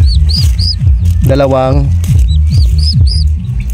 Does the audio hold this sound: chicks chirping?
yes